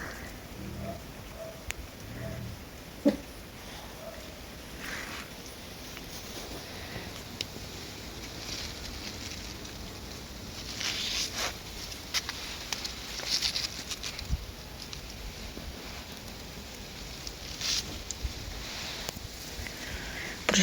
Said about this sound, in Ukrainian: пішли дощики.